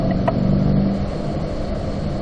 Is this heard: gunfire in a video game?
no